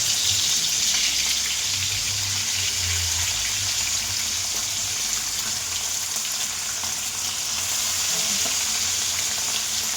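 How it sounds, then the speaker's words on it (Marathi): Bangda mackerel fries in hot oil in a pan, giving a loud, steady sizzle that crackles continuously from start to finish with no talking. "मी आता थोडी मच्छी घेतो तळून स्पेशल आज माझ्याकडे आहे बांगडा मच्छी"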